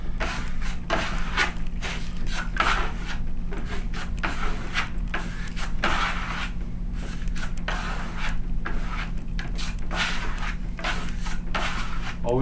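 A steel trowel rubs fine Venetian marmorino plaster onto a wall in steady circular strokes, giving a continuous close scraping and rasping with repeated rhythmic sweeps and no talk.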